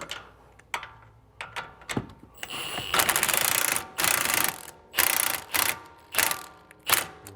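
Electric ratchet snugging a rear shock bolt on a BMW G20 330i, with close, loud bursts of rapid mechanical clicking and whirring, separated by short pauses and occasional tool clatter.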